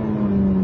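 A Ferrari F430 engine holds a steady, loud rev around 4,000 rpm, a sustained droning tone with no gaps through the brief moment.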